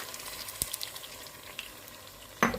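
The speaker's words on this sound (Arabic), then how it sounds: "فد شوية يحمس عصير الطماطم ويا الدجاج." Tomato juice fries together with chicken in a pan, making a soft, close sizzle broken by a few scattered spatters and stirring scrapes, with a louder burst of frying at the very end.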